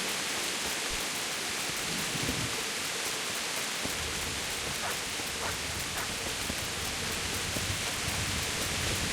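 Steady, close hiss of rain falling in the medieval video game Kingdom Come Deliverance, constant throughout with faint soft hoofbeat-like knocks mixed in.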